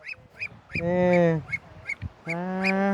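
Ducks being caught give loud, nasal honking quacks, two long drawn-out calls among shorter squawks, close by, with faint voices in the background.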